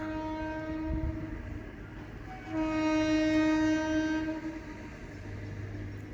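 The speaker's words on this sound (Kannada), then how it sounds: "ಇವಾಗ ಬರ್ತಾರ ಟ್ರೈನ್ ಬಂದು" A passenger train from Mysore approaches a large underpass junction on the Mysore Road, its horn sounding a steady sustained blast that swells louder midway over a rumbling rail background; no talking.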